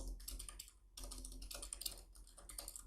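Fingers type on a computer keyboard in quick, uneven bursts of close, crisp key clicks, with a short pause near the start and no voices.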